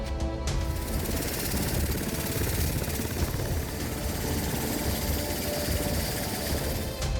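Steady, loud Bell 212 helicopter rotor thudding with a constant engine whine, close by and continuous throughout, no voices.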